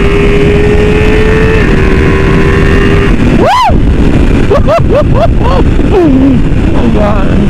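A 2023 Ducati Multistrada V4 Pikes Peak at speed on the road, its engine drone steady beneath loud wind buffeting, with a few quick revs rising and falling partway through.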